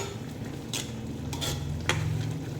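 Mung beans being stirred in a cooking pot, with soft scraping and occasional light clinks of a utensil against the pot over a steady low background hum, no talking.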